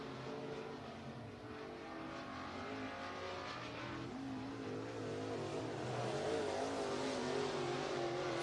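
Race cars roar around the I-75 Raceway speedway in Niota, Tennessee, a steady dense engine drone that swells and pitches up and down as the Nets group cars, including the 369D and 12 machines, run their lap.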